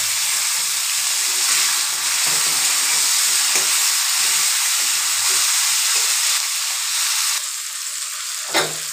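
Vegetables tipped into hot oil seasoned with five-spice, dried chilli and bay leaf for veg khichuri, sizzling loudly and steadily with a hissing spatter that eases slightly near the end, a brief clink just before it stops.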